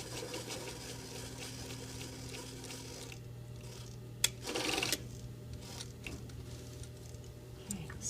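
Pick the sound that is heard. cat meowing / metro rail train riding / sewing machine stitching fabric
sewing machine stitching fabric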